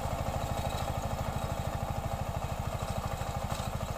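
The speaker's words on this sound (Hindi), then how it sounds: "एक सिलेंडर ट्रैक्टर है ये और किस तरह का काम कर रहा है।" Massey Ferguson 5118 single-cylinder 18–20 HP tractor doing inter-row cultivation in a sugarcane field, its engine chugging in a steady, rapid rhythmic thump at close range without pause.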